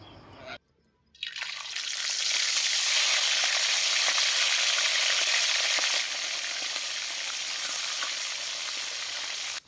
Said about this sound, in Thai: จะทอดปลาให้น้องฟิวได้กินก่อนจ้า